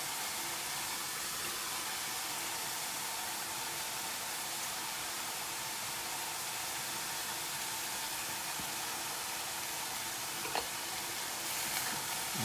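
Red sauce being mixed in a pan over very high heat, a loud continuous hiss and sizzle that stays even throughout, with no voices.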